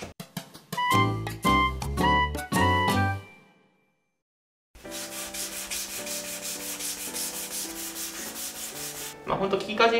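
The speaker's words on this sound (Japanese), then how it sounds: "よし、じゃあまずは木材にヤスリをかけていきます。" A 2x4 wooden board is hand-sanded with 240-grit sandpaper fixed to a handle, making rhythmic rubbing strokes that stop for a brief pause and then carry on as a steady, close scrubbing sound.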